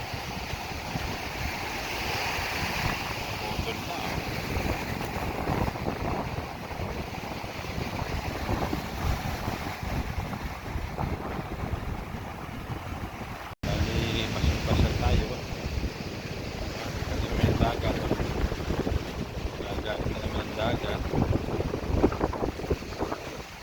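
Strong gusting wind from a low-pressure system buffets the microphone in a continuous roar at a beach, with waves and water sounds underneath throughout.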